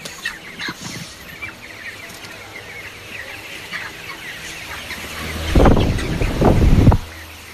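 Chickens on a small hobby farm cluck and chirp steadily at moderate distance, with louder, fuller calls bunching together near the end; no one speaks.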